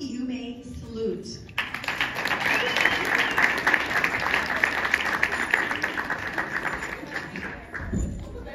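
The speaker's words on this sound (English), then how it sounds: "I love how other teammates from other sections are here, cheering them on." Teammates at a youth gymnastics meet break into loud, sustained applause and cheering from a nearby crowd. Voices call out over the clapping, which then fades near the end.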